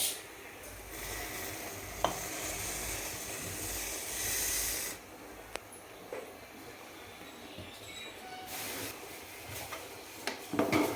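Rice is stirred into a pot of rolling boiling water, producing a faint bubbling hiss with soft swishing and a few light utensil taps, heard close but quiet.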